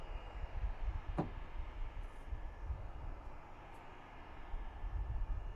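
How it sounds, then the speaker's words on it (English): An airplane engine in Microsoft Flight Simulator 2020 drones as a steady, fairly quiet low rumble with a faint click or two, no speech. "Also the sound of this airplane is amazing. It makes a hell of noise."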